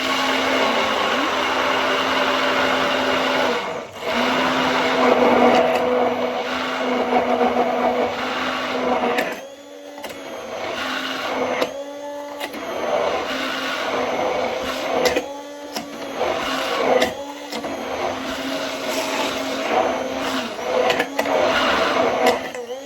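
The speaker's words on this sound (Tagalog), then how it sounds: "Ang gagawin lang natin, gagamit tayo ng immersion blender." An immersion blender whirs steadily while blending low carb mayonnaise, its motor holding a loud, continuous drone with brief dips and pauses as it moves through the mix.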